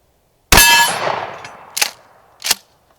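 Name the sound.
Remington 870 shotgun firing a 1-ounce slug at steel target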